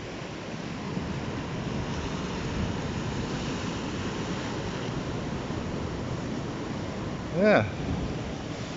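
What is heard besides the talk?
ocean waves breaking on the beach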